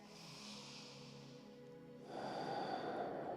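A single audible exhale during a yoga breathing exercise, a breathy rush of air that swells partway through and holds steady, close and alone with no talk.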